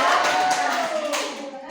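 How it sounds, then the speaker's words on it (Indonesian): A short burst of clapping from a group, steady and fairly loud, fading toward the end. "tepuk tangan untuk kelompok 2"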